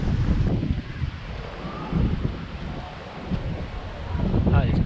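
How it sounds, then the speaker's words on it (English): Wind buffets the microphone in a steady low rumble on a hike in Valletta, Malta, with faint gusts rising and falling throughout. "it's going to be incredibly windy again."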